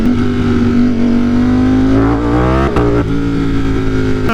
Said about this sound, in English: Once I get it on the highway, I'll rev it out a lot more.